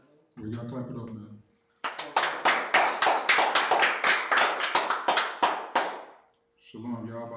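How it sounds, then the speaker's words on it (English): A group of people clap in a loud burst of sharp, rapid hand claps for several seconds, with talking just before and after the clapping. "We gotta clap it up, man."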